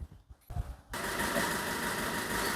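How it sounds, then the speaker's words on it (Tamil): A Maruti Brezza diesel car engine cranks briefly, then catches and settles into a steady, loud idle with a constant rumble and hiss, close by and with no talking. "இந்த வண்டி வந்து இப்போ நான் வந்து ஸ்டார்ட் பண்ணி காட்ட போகிறேன் நீங்கள் பாருங்கள்"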